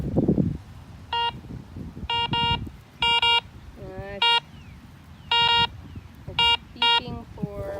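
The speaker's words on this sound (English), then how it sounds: "It's beeping for a nickel or pull tab." A Garrett Ace 200 metal detector gives a series of short, clear electronic beep tones in quick pairs and singles, over rustling handling noise and outdoor background.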